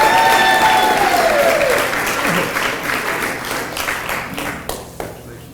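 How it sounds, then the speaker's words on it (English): A room of guests at a bowling association adult banquet claps for an award recipient, the applause loud at first and then thinning out over several seconds. "Now let's give him a nice round of applause."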